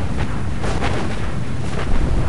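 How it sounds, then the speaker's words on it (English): A large in-game explosion in the strategy game Planetary Annihilation, a loud, sustained rumbling roar with broad noisy bursts that keeps up steadily for a couple of seconds without fading. "So look at this explosion."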